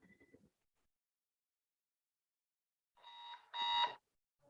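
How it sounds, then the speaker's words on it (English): Buzzer signalling the end of a timed session at a secondary-school professional development meeting: a brief faint sound at the start, then after a silence a two-part electronic buzz lasting about a second. "when you hear the buzzer, just go ahead and rejoin"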